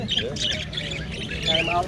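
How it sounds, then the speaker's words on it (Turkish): Harsh parrot squawks ring out repeatedly over a busy background of voices and chatter at a bird and poultry market, fairly close and loud. "Yanında böyle renkli renkli papağanlar var."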